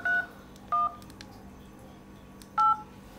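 Keypad button tones on an LG V60 phone, three short clear beeps spaced unevenly across a few seconds in a quiet room.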